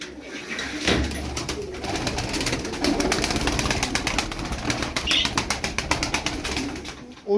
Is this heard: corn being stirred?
no